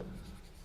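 A brief scratch of chalk or marker writing on a board in a maths class, one short stroke up close.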